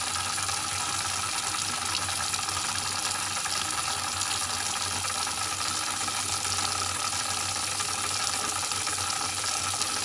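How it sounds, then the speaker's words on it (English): Water runs steadily from a filter tap, a constant even rush of flowing water that continues without pause and with no voices. "Anytime you can hear running water in the background"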